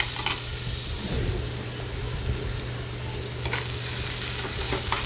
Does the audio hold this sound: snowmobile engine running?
no